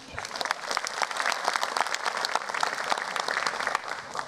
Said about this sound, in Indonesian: Tepuk tangan dulu buat Kompas TV